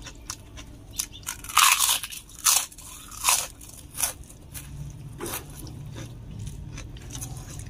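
Crunchy fried fish being bitten and chewed up close, several sharp crisp crunches in a row, then softer chewing and rustling; no talking.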